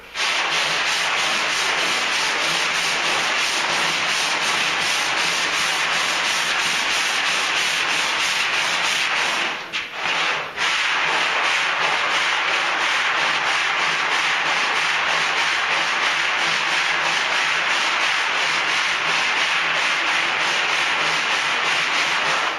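A sanding block works body filler on a pickup truck's wheel arch, a loud, continuous close-up rasp that pauses briefly once partway through before resuming steadily.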